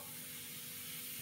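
A pressure cooker cooking octopus gives off a steady, even hiss of escaping steam, faint and unbroken throughout, with no voices over it.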